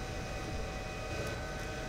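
An airplane in the GTA V video game sits on the runway, its engine giving a steady, even drone with a faint whine and no other sounds.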